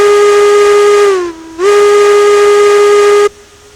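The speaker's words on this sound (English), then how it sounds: "they also added reverb back to the whistle." A loud steam locomotive whistle in the video game Railroads Online blows in two long blasts, dipping in pitch between them, with a hiss and a lingering reverb echo after it cuts off.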